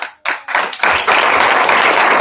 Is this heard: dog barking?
no